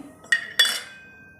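A metal container lid presses down to cut rolled dough for masala millet (bajra) puris, giving two sharp metallic clinks against the rolling surface, close and clear, with a faint ringing tail.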